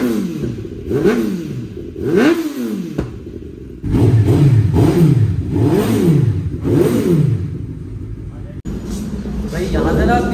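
A Kawasaki 10R superbike engine revs hard again and again, pitch climbing and dropping in quick sweeps, loud and close, with voices talking underneath.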